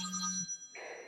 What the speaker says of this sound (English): A phone call. I'll get that later.